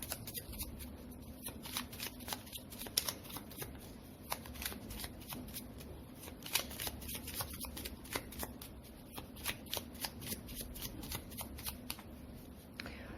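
Tarot cards shuffled and drawn by hand, a long run of soft rapid flicks and snaps close to the listener, quiet and rhythmic without pause, with no talking.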